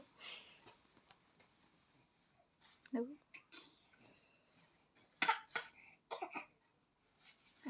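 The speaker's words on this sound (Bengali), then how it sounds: "আবার কাশি" A few short, sharp coughs burst out in a quiet room at home, spaced apart with soft breathing and faint voice sounds between them.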